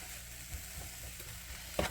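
Sliced mushrooms stirred and frying in a pan for a cheesesteak casserole, with a steady close sizzle, a few scraping stirs, and one sharper clack near the end, without talking.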